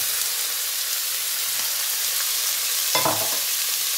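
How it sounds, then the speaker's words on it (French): Peppers stir-fry in hot oil in a wok with a steady, close sizzle and hiss throughout. A brief scrape or stir stands out near the three-second mark. "on fait chauffer une poêle bien chaud avec l'huile. Et on commence par les poivrons"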